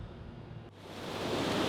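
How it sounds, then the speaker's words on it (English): Strong ocean waves crash and wash along a coastline below mountains, a broad rushing roar that builds louder toward the end with no voices. "The waves are strong."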